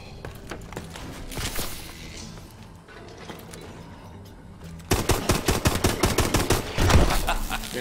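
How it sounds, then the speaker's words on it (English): Gunshots from the video game Exo Zombies, scattered shots at first, then a rapid regular series of sharp reports toward the end over a busy game background. "Pistol."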